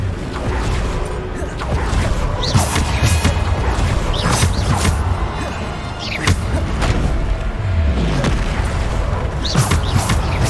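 Spell blasts from Bombarda in the Hogwarts Legacy video game, a run of loud booming crashes and thuds over a busy, dense game soundscape with creaks and mechanical clatter.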